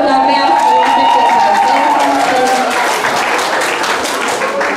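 An audience at a school event applauds with continuous, dense clapping from many hands, loud and sustained throughout, with a tonal ring from the room's sound system underneath.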